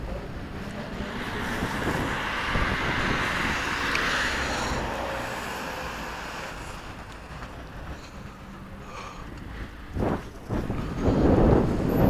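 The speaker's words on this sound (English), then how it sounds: "Windy, guys. Absolutely bloody windy." Strong wind blowing outdoors, a continuous loud rushing buffet across the microphone with gusts that swell near the end.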